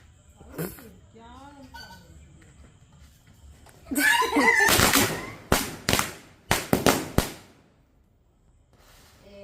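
Several sharp firecracker bangs burst in a quick cluster, loud and close, with voices talking and laughing before and around them.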